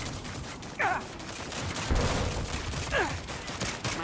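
Continuous rattling gunfire in the Saints Row video game, a dense steady barrage of shots throughout, with a couple of short vocal sounds over it.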